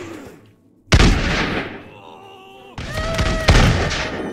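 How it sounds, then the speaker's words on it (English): Musket volleys in Totally Accurate Battle Simulator: two sharp, loud bursts of massed gunfire about two seconds apart, each followed by a ringing, decaying tail, with a quiet pause before the first. "That musket's great."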